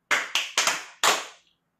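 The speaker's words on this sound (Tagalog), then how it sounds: "So ganito siya, tatlong palakpak." Sharp hand claps ring out close by in a quick, slightly uneven run of about four, each with a short echoing decay and then silence.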